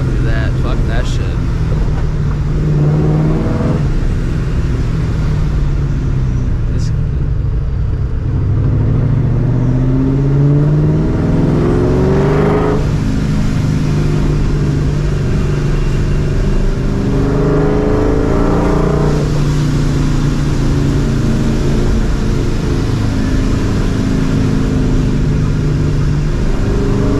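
A supercharged 2004 Ford Mustang GT rumbles and revs in repeated swells, loud and close, with people talking over the engine.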